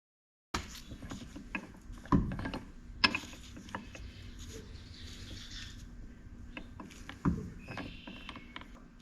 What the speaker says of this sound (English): I've got those bolts down there snugged up.